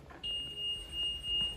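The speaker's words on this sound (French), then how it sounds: "Là encore, ça bip, ça veut dire qu'on est inférieur à 2 ohms." An electrical tester checking the earth connection on an oven hinge gives a steady, high continuity beep that starts abruptly and holds for over a second, clear and close with no talking.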